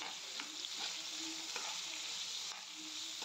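Onions and tomatoes frying in a pan for brinjal masala, a faint continuous sizzle with soft periodic stirring taps, no talk.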